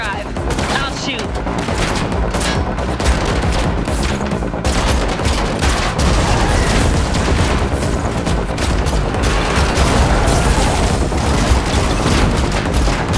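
Dense, continuous gunfire from The Matrix Awakens, an Unreal Engine 5 game, fills the scene with rapid overlapping shots and booming impacts, loud and unbroken throughout.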